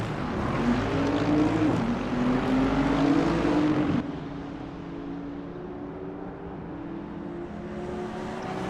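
Lexus RC-F and BMW M4 GT3 race cars in a video game, engines droning loud and continuous with rising and falling pitch as they race past, the sound shifting and fading slightly after a few seconds.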